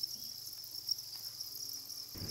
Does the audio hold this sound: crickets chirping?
yes